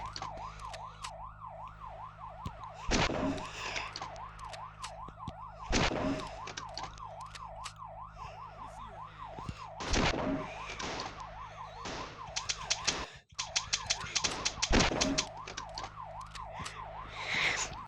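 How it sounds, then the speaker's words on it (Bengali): A police car siren in a gangster crime video game wails up and down continuously at moderate volume, punctuated by several sharp, loud bursts of game action. "একটা নাকি পুলিশের গাড়ি আসবে আমাকে মারার জন্য"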